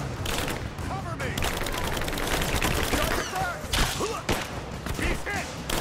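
Sustained gunfire rattles through a firefight in the video game Rise of the Tomb Raider, dense machine-gun bursts and thuds up close, with voices shouting over the shooting.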